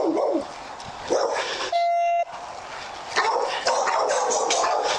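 A dog barks and growls in chaotic bodycam footage during a tense backyard confrontation, loud noisy bursts mixed with a brief electronic beep and rustling.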